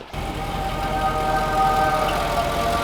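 A limousine's engine runs steadily nearby as it is moved, a continuous low mechanical drone with faint tonal hum, holding fairly even loudness throughout with no talk.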